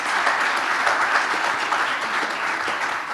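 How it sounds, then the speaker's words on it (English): Steady crowd applause fills a conference hall at an energy storage forum, dense and sustained throughout with no voices breaking through. "So a round of applause for everybody that worked together to make this a success"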